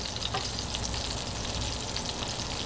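Salmon fillet searing skin side down in a pan over very low heat: a dense, even, continuous sizzle with fine crackle throughout, close and steady, no voices.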